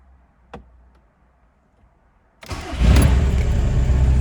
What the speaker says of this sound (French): le moteur, il a même pas fait un tour avant de démarrer